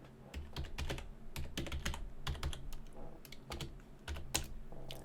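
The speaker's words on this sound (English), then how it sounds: "If I can learn to type it right" Fast, uneven clicking of keys on a computer keyboard, heard close and steady with brief pauses between runs of keystrokes and no talking.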